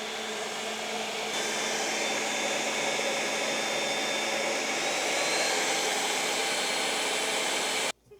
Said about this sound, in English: You set it down in place, you turn the power button, and you just press blend.